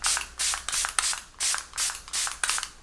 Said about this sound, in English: And then I just spray it about 12 inches away from the face